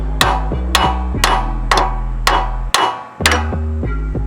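About eight sharp hammer taps on a stuck water pump on a 5.7 Hemi engine, each a ringing metallic strike spaced roughly half a second apart, loud and close.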